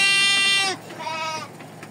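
Penned sheep on a farm in Porto Feliz, São Paulo, bleat twice, close by: a long, loud cry followed by a shorter, softer one, with no talk.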